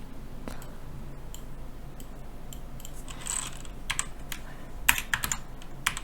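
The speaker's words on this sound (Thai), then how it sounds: "เดี๋ยวผมจะขออนุญาตพิมพ์ให้เลยนะครับ" Someone types on a computer keyboard, producing scattered soft key clicks that grow into quicker, sharper bursts toward the end over a quiet background hum.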